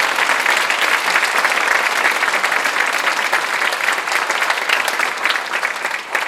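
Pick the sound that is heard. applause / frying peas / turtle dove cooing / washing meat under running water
applause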